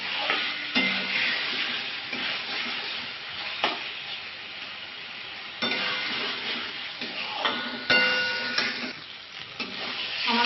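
Masala being stir-fried in a pan for a Bengali bhetki fish curry, giving a close, continuous sizzle broken by repeated scraping strokes of a spatula.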